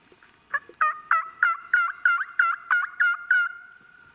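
Wild turkey gobbling during a New York spring hunt: a clear run of about ten rapid, evenly spaced gobble notes, fairly close and alone against a quiet background.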